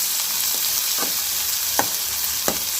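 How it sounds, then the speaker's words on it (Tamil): Onions sautéing in a hot pan for a carrot and potato stir-fry, a steady loud sizzle with a few spoon scrapes of stirring over it, close up and with no voices. "இப்போ வெங்காயத்தை நல்லா வதக்கிக்கலாம்."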